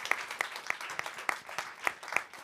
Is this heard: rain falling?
no